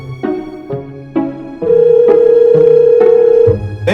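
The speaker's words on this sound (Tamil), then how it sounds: "கிஷோருக்கு ஃபோன் பண்ணுவோம்" Repeated telephone ringback tone heard while calling a friend, with a steady sustained ringing pulsing in a regular pattern, loud and close with no talking over it.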